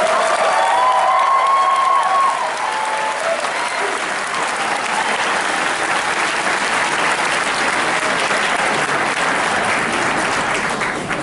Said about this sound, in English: let's give one more big round of applause for our entire class of 2016